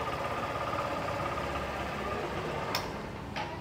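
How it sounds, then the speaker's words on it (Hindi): A 2024 Honda Shine 100 motorcycle engine runs with the throttle applied, giving a smooth, quiet, steady hum with a faint ticking texture, heard up close with no talk. "थ्रॉटल देता हूँ, होंडा का इंजन नो डाउट काफ़ी ज़्यादा स्मूथ, काफ़ी ज़्यादा साइलेंट"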